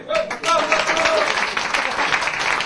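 A studio crowd at an Italian quiz show applauds with dense, steady clapping, mixed with voices and cheering throughout.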